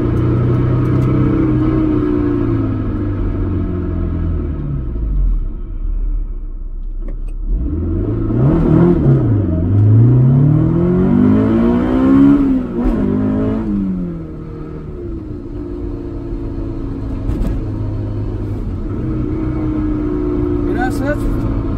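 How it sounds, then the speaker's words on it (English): A Honda S2000 AP1 convertible engine revs hard into VTEC, its pitch sweeping up and down in loud, close rises and falls over a steady engine drone. "VTEC heads real nice and hard in this car."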